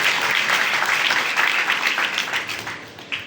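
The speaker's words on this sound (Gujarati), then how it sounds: "ખાલી તાળીઓ પાડવાથી કાંઈ નહીં થાય." A crowd at a religious gathering breaks into sustained applause, a dense wash of clapping that swells, then gradually thins and fades toward the end.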